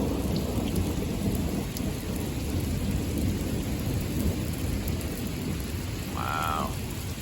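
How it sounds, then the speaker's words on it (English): Heavy rain pours steadily through a lightning storm, a dense rushing wash with low thunder rumbling beneath it and no voices. "Man, the rain slowed down."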